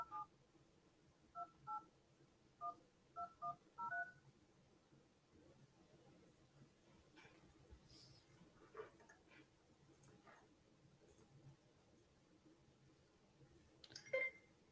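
A phone call being dialed, a quick run of about nine short touch-tone beeps in the first four seconds, fairly clear against faint room noise. A quieter stretch of low murmur and small clicks follows, with another brief tone near the end.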